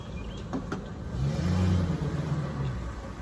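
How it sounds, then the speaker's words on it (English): A logging skidder's diesel engine runs at a steady mid-pitched drone, swelling louder for a moment as the machine moves, with a few faint clanks early on, outdoors at a logging site. "I'm going to get this skidder out of here or pull it out in the sun where I can see"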